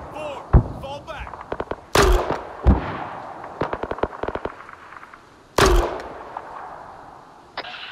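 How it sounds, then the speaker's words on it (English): Mortar rounds fire and land in the Arma 3 combat game: several sharp, heavy blasts spaced a few seconds apart, with rapid crackling small-arms shots between them and voices heard in the mix. "Good effect on mortar."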